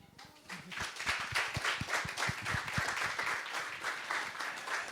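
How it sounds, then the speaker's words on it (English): A short burst of audience applause follows a climate talk on wildfire management, the claps fairly distinct and moderately loud after a quiet start, without speech over it. "we will give them a short applause"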